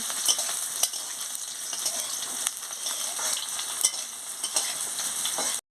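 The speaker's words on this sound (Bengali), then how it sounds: "কাঁকড়োটাকে ভালো করে পেঁয়াজের সঙ্গে ভেজে নিচ্ছি" Kakrol (spiny gourd) frying with onions in a pan, a continuous crackling sizzle with occasional scraping stirs, moderately close and steady until it cuts off.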